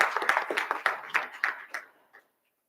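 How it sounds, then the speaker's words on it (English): A small group claps at a Board of Education public session, a short patter of applause that thins out and fades to silence within about two seconds. "So it would be nice to give them a round of applause."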